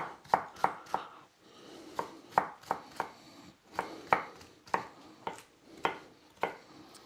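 A knife chops celery on a cutting board in a home kitchen, sharp close knocks landing in quick irregular bursts of two or three, with quiet pauses between.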